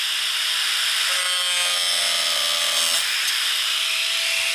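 A power tool cutting excess metal off a diesel Jeep Wrangler, a steady loud high-pitched grinding whine that holds for about four seconds, close up and alone.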